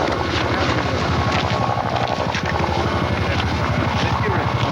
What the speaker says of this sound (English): You hear a helicopter off in the distance there.